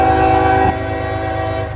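A CSX southbound intermodal freight train sounds its horn, a loud, close chord that drops slightly in tone partway through as the train rolls past with a rumbling undertone.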